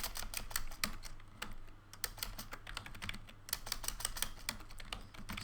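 Someone types on a computer keyboard, entering text into software, producing rapid, irregular clusters of crisp key clicks with brief pauses, close and fairly quiet, with no talking.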